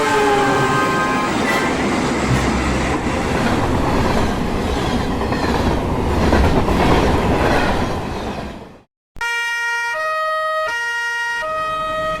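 A train speeds along the rails with a loud, continuous roar and rumble for most of the stretch, then after a brief gap a sustained tonal horn or siren-like blast sounds nearby.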